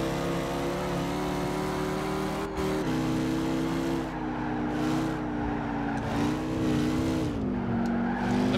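A tuned BMW race car lapping the Nürburgring in Gran Turismo 5, its engine droning loud and steady with sliding pitch shifts at gear changes and a faint tyre scrub underneath, no one talking.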